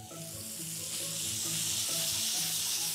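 Asparagus base pieces sizzle steadily in hot olive oil with onion and garlic, a dense close frying hiss that builds slightly, with faint stirring underneath and no voices.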